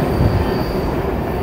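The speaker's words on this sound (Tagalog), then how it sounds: "nakita na natin ang train. So nakikita nyo, napakaganda. Napakaganda ng train." A train rolls past on the railway at Morant Curve with a loud, steady rumble of wagons and a faint squeal of wheels. No one speaks.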